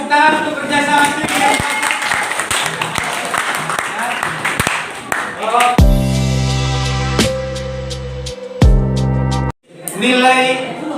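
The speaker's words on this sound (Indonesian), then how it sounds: "tepuk tangan untuk kerjasama tim" A classroom group claps hands in a brief burst, mixed with voices and chatter, before music with a steady beat takes over and the clip ends with more talk.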